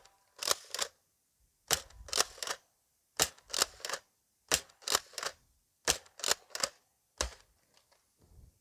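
Liberator pistol shots fired at a 25-foot target on an outdoor range: sharp, fairly faint cracks in quick pairs and triplets, around a dozen in all, separated by short silent gaps.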